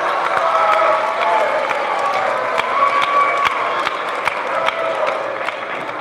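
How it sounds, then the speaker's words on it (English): Audience applauding at a 2018 high school graduation ceremony, a dense continuous wash of many hands clapping in a large hall, fairly loud and steady with some brighter nearby claps. "let's give a round of applause to your family real quick"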